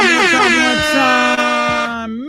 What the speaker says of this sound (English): I feel like that air horn cut off abruptly.